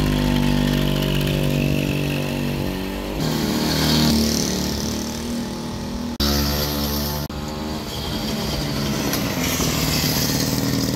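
An old barn-find moped that had lost power runs on a test ride after its exhaust was burned out, a loud buzzing engine whose pitch rises and drops in several abrupt stretches, alone without talk.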